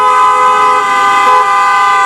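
A car horn blares loud and continuous at close range as a Serbian wedding procession passes.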